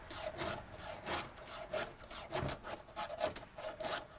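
Round file stroking a chainsaw tooth, sharpening a raw-stock carving saw: a steady run of about eight rasping strokes, each a short bright scrape, moderately loud and close with no talk.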